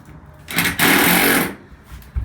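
A power driver with a magnetic tip drives fasteners into aluminum diamond plate flooring, giving one loud, steady whirring run of about a second, with a brief lead-in burst and quiet before and after.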